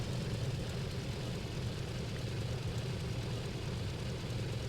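A simulated aircraft engine in a flight simulator game, throttled back to a steady, low droning rumble that holds even and fairly faint throughout, with no talking.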